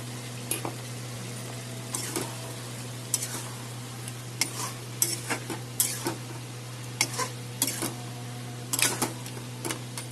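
Ginger, green chilli and garlic paste with fried tomato paste being stirred and fried in a pan for a Bengali chicken dish, with a steady low sizzle and repeated scraping strokes of a spoon throughout, no talking.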